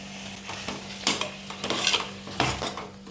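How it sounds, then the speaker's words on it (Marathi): Mushrooms sizzle gently in a pan for a Mushroom Xacuti while a utensil stirs them, scraping the pan in a few irregular bursts close by over a low steady hum. "त्याच्यानंतर आपण आता याच्यात मशरूम घालायचे आणि ते 2-3 मिनिटं शिजून घ्यायचे।"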